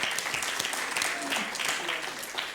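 A church congregation claps together during a service, a steady wash of applause with a voice faintly audible underneath.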